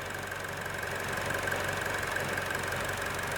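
Failing EVAP purge valve on a Buick Encore with fault code P0496 rattles in a fast, steady ticking over the constant hum of the idling engine, close up and without speech.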